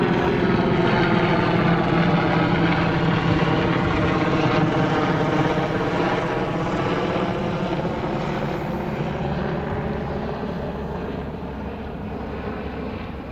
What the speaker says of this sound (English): the helicopter's like coming right overhead